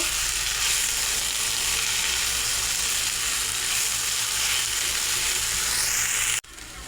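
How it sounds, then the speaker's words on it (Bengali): Chopped okra fries in a pan with turmeric, giving a steady, loud, dense sizzle that runs unbroken for several seconds before cutting off abruptly near the end. "ঢেঁড়সটা আমি 5 মিনিট ভেজে নেব।"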